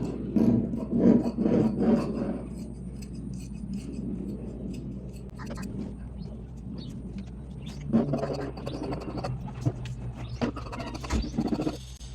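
Scissors cutting lining fabric for a top, a rasping snip-and-slide texture, louder at first and then lighter, recurring close up with no talk.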